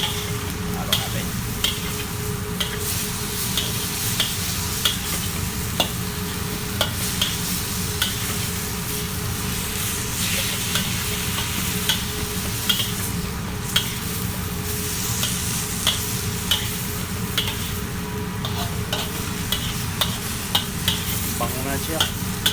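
Chicken fries in a pan with oyster sauce while being stirred. A loud, steady sizzle runs throughout, with frequent scraping stirs and no talking.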